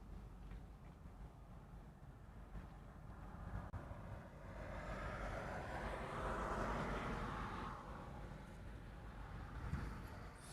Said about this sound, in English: This is a C-17 heading out to the reef runway.